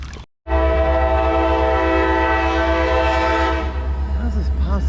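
A train on a one-track line near a city creek sounds a long, loud horn blast that starts suddenly and holds steady, over a deep rumbling roar of the passing cars.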